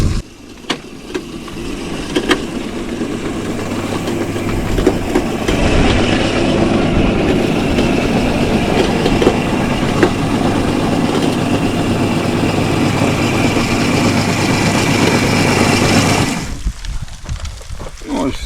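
Engine of a grape seedling digging machine runs steadily and loud, a low rumbling drone with clattering mechanical texture that continues for most of the clip before cutting down sharply near the end.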